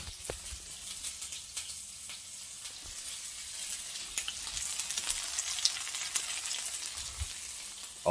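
Cheesy potato patties fry in a pan with a steady, faint crackling sizzle and scattered small pops, no voices present.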